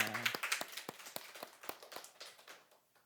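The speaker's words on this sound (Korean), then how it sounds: "서로 격려 축복의 박수 하겠습니다" A church congregation claps during a Sunday worship service, a quiet, brief round of steady, evenly spaced claps at a moderate distance that fade out within a few seconds.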